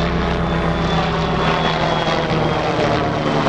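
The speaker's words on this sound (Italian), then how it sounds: "Un looping perfetto di elicottero." A helicopter performs a loop at a civil airshow at Linate, its engine and rotor making a loud, steady drone throughout with no talk.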